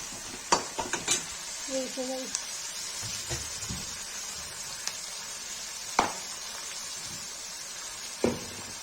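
Onions frying with salt in a pan for a Kashmiri-style black chickpea curry, a quiet, even sizzle broken by occasional utensil clinks and scrapes, with brief voice sounds near the start.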